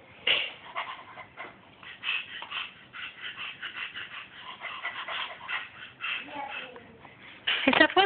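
A small child repeatedly imitates a dog with yippy barks and whimpers, a rapid string of squeaky vocal sounds ending in a louder burst.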